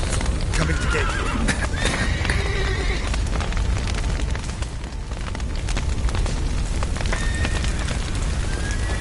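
Horses whinnying and neighing amid a chaotic Witcher 3 game scene, with clip-clopping hooves, rumbling booms and crashes, and voices shouting throughout in a dense, loud mix.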